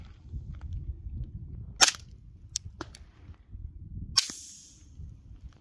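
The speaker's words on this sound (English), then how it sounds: "Two shots, first one suppressed with slide cycling." A few sharp, muffled pops of pistol shots through a Hush Puppy Project Model 2 silencer, one with the slide cycling and a mechanical click, separated by quiet pauses and faint background noise.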